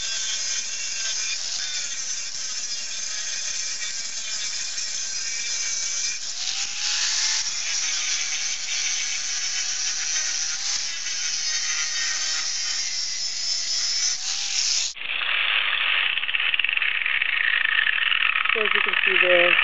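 A Harbor Freight 4 1/2 inch angle grinder grinds rust scale off metal with a continuous high, harsh whine that shifts pitch midway and then settles lower.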